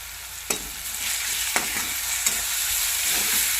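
Green chillies fry in hot oil, a continuous close sizzle broken by a few sharp clinks of a spoon stirring them around the pan.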